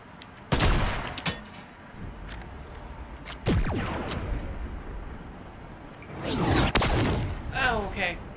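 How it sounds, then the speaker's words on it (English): Laser guns firing in Fortnite Season 7, with a sharp burst of blasts followed by sweeping zaps and a second cluster of shots, loud over a busy game background. "Is he just shooting lasers at me?"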